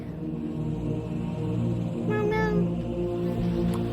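A kitten trapped inside a car's engine compartment meows a few times, muffled and somewhat distant, over a steady low mechanical hum.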